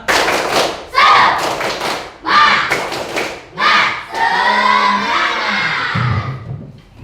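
A standing group at an ice-breaking session does tepuk semangat, a rhythmic spirit clap, in short bursts mixed with loud chanting voices, then a longer sustained chant with thumps near the end.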